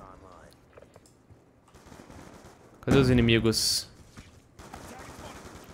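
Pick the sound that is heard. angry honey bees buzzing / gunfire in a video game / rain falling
gunfire in a video game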